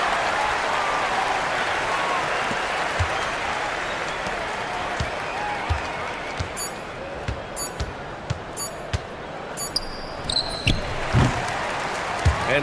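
Arena crowd in an e-basketball video game applauding and cheering in a steady wash, with sharp squeaks and ball bounces standing out later and a commentator talking over it.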